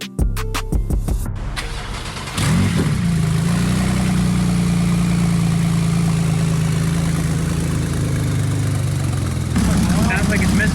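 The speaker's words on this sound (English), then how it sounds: "Sounds like it's misfiring." A wrecked Porsche 911 Turbo engine runs rough after a few sharp starting bursts, settling into a loud, steady, uneven drone that continues for several seconds with a brief rise near the end.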